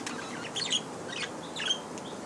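A young parakeet gives a few soft, short chirps in two small bursts against a steady background hiss, with no talking.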